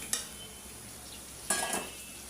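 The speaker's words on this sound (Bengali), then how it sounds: "এখন আমি শাকের ডাঁটাগুলো আগে দিয়ে দিই, একটু নাড়ার পর" Malabar spinach stems stirred into frying potatoes and spices in a pan: a low steady sizzle with two brief scraping stirs, close and fairly quiet, no talk.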